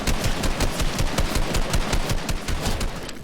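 Fortnite video game gunfire, a rapid continuous burst of automatic shots with a fast rattling rhythm, loud and dense throughout.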